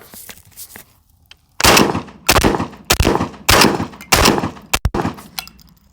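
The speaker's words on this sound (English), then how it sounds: "First shot's through the shotgun, Winchester AA 1300s, 1 1/8 ounce." A MAC 1014 shotgun fires Winchester AA 1300 1 1/8 ounce shells: six loud, sharp blasts spaced roughly half a second apart, with a quick double near the end and echoing tails, alone without speech.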